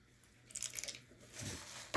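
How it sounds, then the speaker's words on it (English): A few crisp crunchy bites and chewing sounds on a crispy fried chicken sandwich, close and quiet, with brief pauses between crunches. "I apologize if you hear us chewing"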